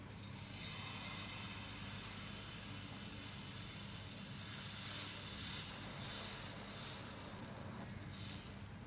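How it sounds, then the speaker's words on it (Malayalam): Oats pancake batter poured onto a hot pan, giving a steady, even sizzle with a soft crackling hiss that holds at moderate loudness throughout. "ചൂടായിട്ടുണ്ട്. ഇതിലേക്ക് നമുക്കിനി മാവ് ഒഴിച്ചു കൊടുക്കാം."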